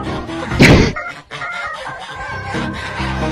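Loud honking and squawking from several geese, with a burst of flapping and cries near the start, then continued agitated bird calls as five geese chase a child.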